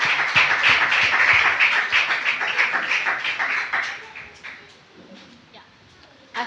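A church congregation bursts into brisk, dense clapping as an offering of applause to the Lord, strong for several seconds before thinning out and fading into near quiet.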